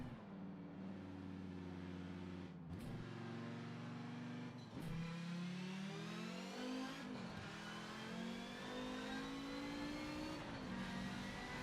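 Audi 90 GTO race car lapping Road Atlanta in Forza 7, its engine climbing through gears with clean upshifts and brief cuts, the rasping pitch rising repeatedly, steady and close.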